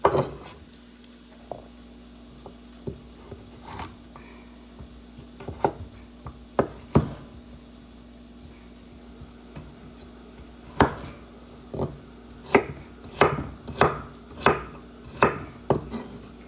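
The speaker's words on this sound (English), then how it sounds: "we'll cut this carrot" A knife chops a carrot on a cutting board with sharp, close knocks. The chops come sparse and irregular at first, then build into a quicker, steadier run near the end over a faint steady hum.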